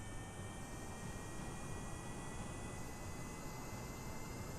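A game aircraft in Kerbal Space Program roars in a steady, even engine drone as it takes off, a faint but unbroken wash of noise throughout, with no talking.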